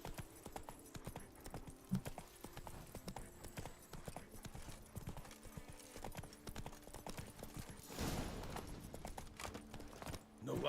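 Roach, Geralt's horse in The Witcher 3, walks with a steady clip-clop of hooves over in-game ambience and music, with a louder rustling burst near the end.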